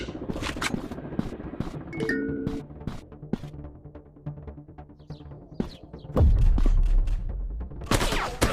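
Rapid bursts of gunfire from an FPS shooting video game, a counter-terrorist shooter, crackle in dense volleys with scattered single shots, then swell into a loud, heavy barrage near the end.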